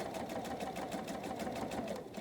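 A sewing machine runs steadily, stitching through the bulky layers of a quilt row in an even, continuous whir with fast rhythmic needle pulses, close and fairly loud.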